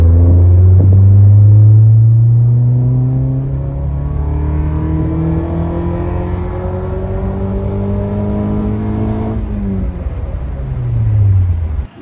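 A tuned Honda car engine on a test run, a loud deep rumble that revs up and holds, then drops and surges again near the end, close by with no talking over it.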